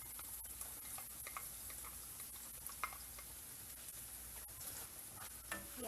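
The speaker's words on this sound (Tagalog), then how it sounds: "Ang una natin gagawin, igigisa natin yung ating bawang. Isunod natin yung ating sibuyas." Garlic and onion sautéing in a pan, giving a faint, steady sizzle with light scattered ticks and scrapes of stirring.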